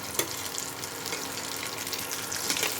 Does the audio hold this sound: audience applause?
no